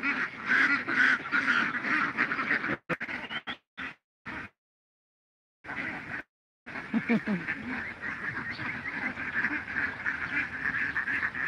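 A flock of ducks quacks and honks loudly and continuously near rice paddies, with a brief stretch of near silence in the middle before the noisy calling resumes.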